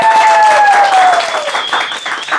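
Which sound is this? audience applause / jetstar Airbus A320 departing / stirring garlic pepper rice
audience applause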